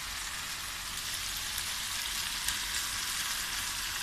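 Mutton brain fries with softened tomatoes in a pan, giving a dense, even, hissing sizzle that stays loud and unbroken, with no voices.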